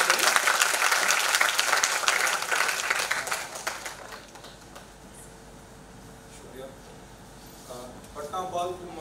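An audience at the closing ceremony of a Patna children's film festival applauds Deepak Anand, a museum director: loud, dense clapping that fades out by about four seconds, followed by quieter room sounds and a voice speaking near the end.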